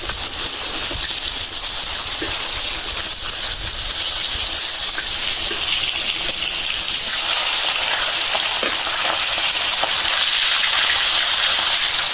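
Large pieces of fish frying in hot oil a few at a time, giving a steady, loud broadband sizzle and hiss that runs unbroken from start to finish with no voices.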